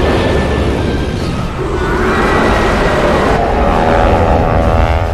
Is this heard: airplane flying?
yes